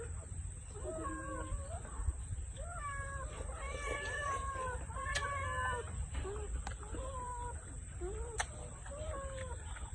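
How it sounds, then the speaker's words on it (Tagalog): Several cats meow repeatedly, overlapping in short rising and falling calls, fairly close, over a steady background hum with occasional sharp clicks, with two chickens nearby. "hindi ko na ikulong yung mga pusa ko kasi may dalawang manok pa doon"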